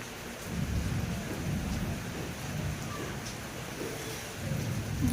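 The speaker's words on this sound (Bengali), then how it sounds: "বৃষ্টি বৃষ্টি পড়ছে।" Rain falls in a continuous soft wash around a house and garden, with a low rumbling undertone and occasional louder patches, no voices.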